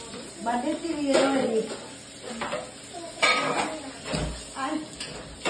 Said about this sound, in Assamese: বাৰ্থডে বাচন ধুই আছে